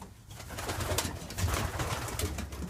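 Racing pigeons coo softly and continuously in a close, enclosed loft, with low murmuring calls and light rustling throughout.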